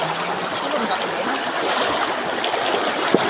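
Steady broadband rush of river water flowing past a boat loaded with plastic-wrapped gear, a continuous close wash with faint splashes near the end.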